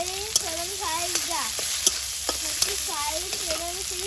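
Cumin and green chilli paste frying in hot oil, a steady loud sizzle with scraping stir strokes and clinks of a spatula against the pan, while a voice talks over it.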